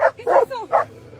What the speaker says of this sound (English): His dogs had creatures cornered and weren't letting up, barking and howling at it from below